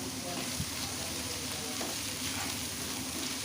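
A soya chunk cutlet mixture cooks in a pan with a continuous, even sizzle close by. One short tap is heard early on, with no talking over it.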